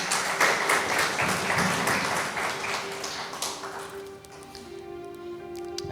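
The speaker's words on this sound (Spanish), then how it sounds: "Denle otro fuerte aplauso a Cristo" A church congregation claps loudly and steadily for several seconds during a worship service; the clapping fades toward the end, leaving a sustained organ or keyboard tone underneath.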